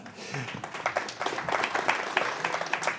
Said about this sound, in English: Special applause.